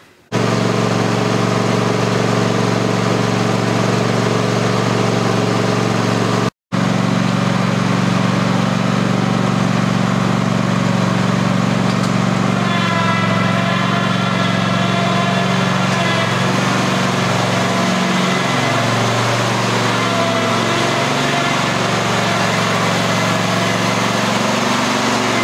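A 2021 Cub Cadet Ultima zero-turn mower engine idles while warming up, a loud, steady, close drone that runs throughout with one very brief dropout and a slight shift in tone later on.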